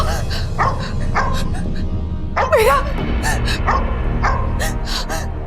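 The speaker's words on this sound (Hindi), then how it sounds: "अब देखिए कुत्ते रात भर भूखेंगे।" Dogs bark and yip in quick, excited bursts beside a house at night, loud and close, mixed under a woman's agitated speech and background music.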